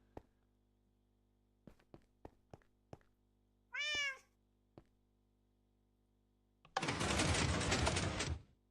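In the game Minecraft, a single short cat meow sounds amid a series of sharp clicking taps, and a loud burst of noise follows.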